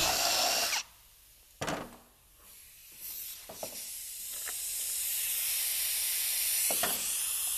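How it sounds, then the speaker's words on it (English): A power drill bores into an Arctic Cat Proclimb snowmobile to mount a Pro-lite running board, with a loud whine in short bursts broken by pauses and clicks, then a long, steady hissing drill run. "we're going to drill right up here, approximately right in this corner here."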